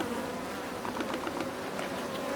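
Honeybees of a gentle, Africanized-reduced strain buzz steadily at a hive in an apiary, a continuous close drone with faint fluttering swells and no talking.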